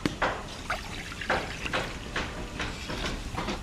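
Water poured into a wok set on a lit clay stove, heard as several short splashy pulses of liquid over a noisy background, moderately near.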